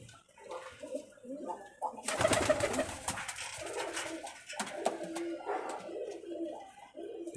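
Pigeons coo in soft repeated throaty rolls at a rooftop loft in Rajshahi, overlapping with rustling and wing movement, close and moderately loud.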